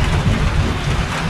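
Heavy rain pouring down steadily, a loud, dense, continuous roar with no pauses.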